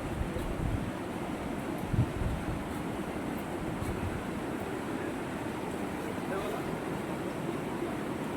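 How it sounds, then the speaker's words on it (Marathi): Swollen, turbulent river water in flood churns as a steady, loud broadband rush with a constant roar throughout, and nothing breaks through it beyond a faint bump of noise. "पुरा खवलतं पाणी आहे, पूर्ण खवलतं पाणी."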